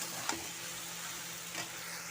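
Chicken sizzling in a pan, a dense, even frying hiss up close with two brief scrapes of the spatula stirring the pieces; no talking.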